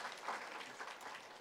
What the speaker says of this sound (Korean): 자, 앉으시고 우리 축가의 박수를 하겠습니다.